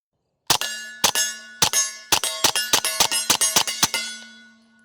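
Rapid pistol shots from a B&T TP9 fired at steel targets on an outdoor range: about a dozen sharp cracks, each with a ringing metallic ping, loud and close, starting slow and then quickening into an even string.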